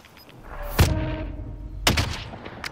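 Two heavy gunshots, about a second apart, ring out in a video game battle-royale shootout, loud and close with a brief echoing tail and a faint sharper shot at the end.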